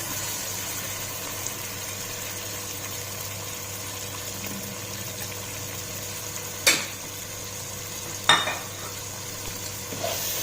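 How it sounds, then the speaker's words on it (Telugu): Green masala paste frying in a pan for fish biryani gives a steady low sizzle, with a couple of sharp clinks or scrapes standing out above the hiss. "దీన్ని మంచిగా ఇందులో వేగనిద్దాం."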